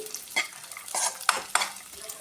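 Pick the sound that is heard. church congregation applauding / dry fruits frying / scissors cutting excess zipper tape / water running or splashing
dry fruits frying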